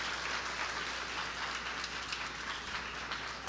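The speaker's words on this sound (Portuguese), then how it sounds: "dê um aplauso a Jesus" A church audience applauds during a sermon reading, producing a faint, dense, steady wash of clapping that stays distant and even throughout without any voices over it.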